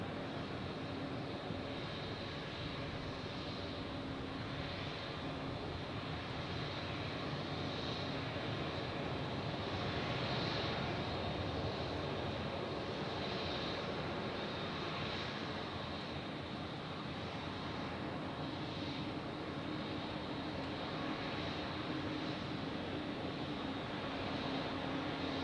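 Steady broadband engine roar from a United Airlines airliner from San Francisco arriving at Zurich airport, heard from a distance as a continuous, even rumble without voices.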